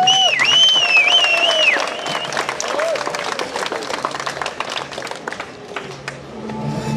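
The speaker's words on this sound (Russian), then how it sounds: "Гонзалес, громкие аплодисменты." At a bear-themed strength competition, loud audience applause and crowd noise swell and then ease, under an excited announcer's voice and whistle-like tones at the start.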